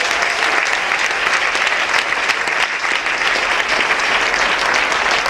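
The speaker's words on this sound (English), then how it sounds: "Let's clap for Jesus" A church congregation claps together at a New Year's Eve overnight service, a dense, steady wash of applause that holds at full strength for several seconds with no voices above it.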